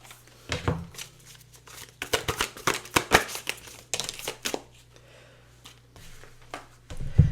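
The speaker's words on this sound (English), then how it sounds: "Pulling you some oracle cards here." Oracle cards are shuffled and pulled in bursts of quick papery riffles and slaps with short pauses between them, close and crisp, with a faint low hum underneath.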